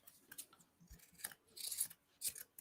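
Scissors snip close-up through excess yarn on a handmade Dollar Tree pumpkin-style pet sweater, with several quick cuts clustered in bursts, the last snips loudest.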